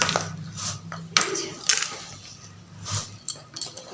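Jhal muri ingredients being tossed and mixed in a bowl: chopped onion, chilli, potato, peas, coriander and coconut with puffed rice. Light metallic clinks and scrapes come in irregular bursts, close and fairly quiet.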